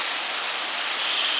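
Waterfall at Güre, heard from high up on the falls, gives a steady, dense broadband rush of falling water with no breaks or other sounds.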